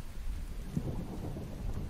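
Steady rain with a low thunder rumble in the survival game The Infected, a dense close wash of rainfall with no talking.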